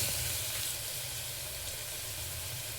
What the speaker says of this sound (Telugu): ఇప్పుడు ఈ మిగిలిన ఆయిల్లో ఉల్లిపాయలు వేసుకొని ఫ్రై చేసుకుందాం.